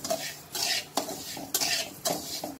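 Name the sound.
sugar melting in oil, stirred in a pan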